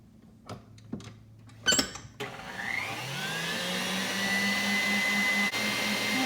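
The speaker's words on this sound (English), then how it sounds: "we're gonna loosen this up a little bit in the mixer." An electric stand mixer starts up after a few clunks and knocks, then runs with a steady, loud whir for several seconds while whipping chocolate mousse until it is light and fluffy.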